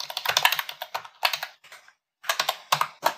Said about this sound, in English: I just started typing that again just so it would autocomplete the import for me